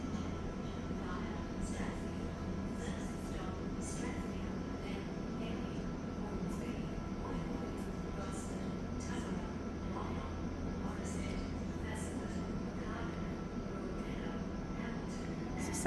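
Steady low rumble of an intercity passenger train running, heard from inside a carriage, with continuous rolling noise and occasional faint rattles throughout.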